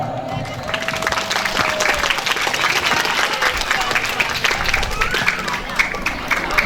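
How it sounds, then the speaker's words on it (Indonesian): Audience at an Indonesian junior high school farewell ceremony applauds the dancers, a lively continuous clapping with some cheering and crowd chatter mixed in, plus a faint tone lingering early on. "Beri tepuk tangan yang meriah untuk para penari."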